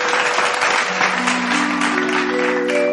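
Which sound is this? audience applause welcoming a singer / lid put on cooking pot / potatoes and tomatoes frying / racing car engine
audience applause welcoming a singer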